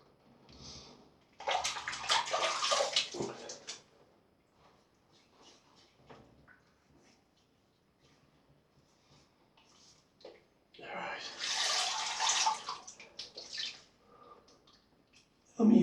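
Warm water runs from a bathroom tap during a safety-razor shave, coming in two separate splashing bursts with quiet stretches between them, close and moderately loud.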